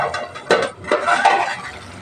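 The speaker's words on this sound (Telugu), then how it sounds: "మంచి దగ్గరికి అయ్యే వరకు ఫ్రై చేసుకుందాం, పచ్చి వాసన పోయే వరకు" Prawn curry fries in a pan with a close, continuous sizzle, broken by a couple of scraping stirs and soft metallic clinks.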